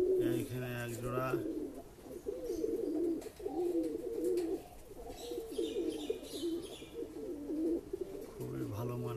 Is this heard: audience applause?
no